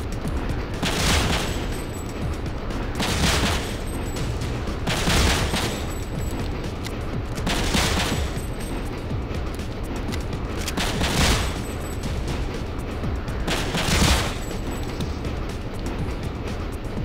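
Gunfire in the video game Breakdown: about seven sharp bursts at regular intervals of roughly two seconds, standing out over a constant rumbling background, with no talk.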